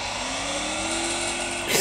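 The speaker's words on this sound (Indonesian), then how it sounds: "Coba pakai mobil ya." Car driving in the mobile shooter Free Fire, a continuous loud engine drone with a slowly rising revving tone and a burst of noise at the end.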